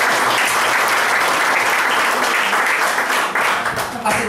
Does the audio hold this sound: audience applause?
yes